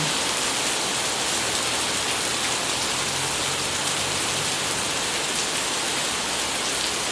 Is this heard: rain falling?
yes